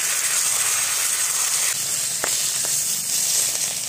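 Flipped fish heads fry in hot oil, a close, even sizzle and hiss broken by a couple of brief knocks or scrapes against the pan.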